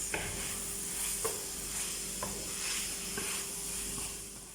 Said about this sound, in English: Let it simmer for some time before I add the other vegetables